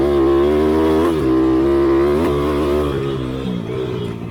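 Motorcycle engine, loud and close, holding a steady drone with pitch rises and dips as the rider revs and eases off, fading slightly toward the end.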